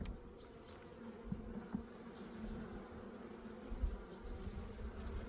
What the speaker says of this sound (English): bees, they are really calm so far.